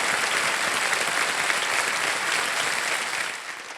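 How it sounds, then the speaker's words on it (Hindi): A studio audience on the quiz show Kaun Banega Crorepati applauds to welcome a contestant, with dense, steady clapping from many hands that holds strong and loud before easing off slightly at the end. No one speaks over it. "तालियों के साथ आपका स्वागत"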